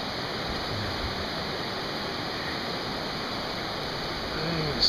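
Floodwater from a river swollen by Hurricane Irene in Woodstock, Vermont rushes in a steady, loud, broadband roar with no let-up, like a waterfall, and no voices over it.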